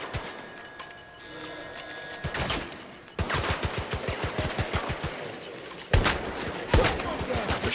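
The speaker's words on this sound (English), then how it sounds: "The shotgun as well, it's got some mad range." Shotgun and other gunfire in the zombies mode of Battlefield 2042, rapid bursts of shots in quick succession punctuated by a few louder, sharper blasts, close and dominant, with some talking mixed in.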